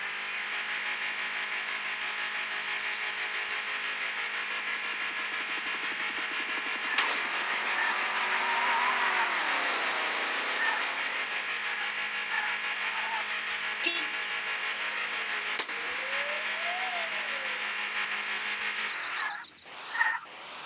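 A car in the video game Dude Theft Wars drives along with a steady droning engine whir, its pitch bending slightly as it speeds up and slows, then breaking off near the end.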